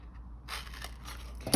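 Scissors snipping into the corners of a milk carton during a recycling craft, a brief crisp cutting and crunching of stiff coated paperboard, close and fairly quiet, with no talk.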